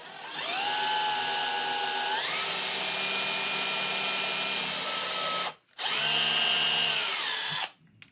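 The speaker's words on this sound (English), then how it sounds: "then I take my drill" A power drill drilling a pilot hole in wood whines steadily, its pitch climbing as it spins up, then cuts off briefly and runs again before stopping.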